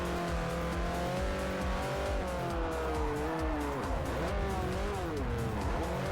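A racing car's engine in Forza Motorsport 4 revs steadily and loudly, its pitch rising and falling through gear changes with some tire squeal, continuous and close for the whole stretch.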